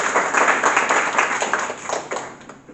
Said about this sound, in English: And can we give Billy a big round of applause as well?